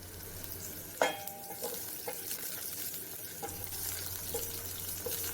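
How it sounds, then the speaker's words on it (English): Onions frying in heated cooking oil in a pot give a steady soft sizzle, with a few faint clinks and a light knock, quiet and close, no voices. "The cooking oil is heated, so I'll just go ahead and add onions"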